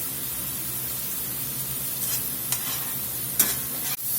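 Mushrooms and onions cook in a pan for beef stroganoff, a steady close sizzle with a few sharp scraping stirs and a brief clank toward the end.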